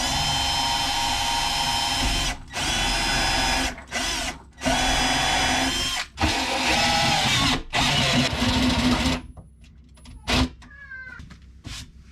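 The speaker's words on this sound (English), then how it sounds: "Drill a hole so we don't crack anything" A power drill whirs in several loud bursts with brief stops between, drilling screw holes in a shelf nook, close up, followed by quieter rustling and a short cat-like squeak at the end.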